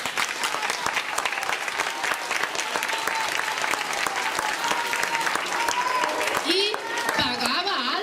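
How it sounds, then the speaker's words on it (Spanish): Applause for a shadow theatre story, with loud continuous clapping from an audience throughout that thins near the end as a voice begins speaking over it. "El público aplaudía."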